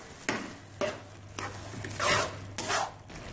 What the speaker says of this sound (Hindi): इसी तरह चम्मच मुसलसल हिलाता रहना है